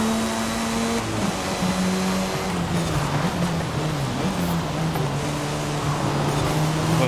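Racing cars in a video game, a Mazda chased by a Nissan, give off a loud, continuous engine drone whose pitch slides down and levels out, with no pauses.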